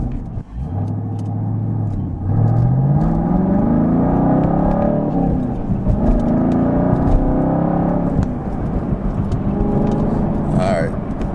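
A Chevrolet Camaro SS's V8 exhaust with a Borla S-Type muffler rumbles and revs up through the gears, deep and loud, heard from inside the car with a voice speaking over it.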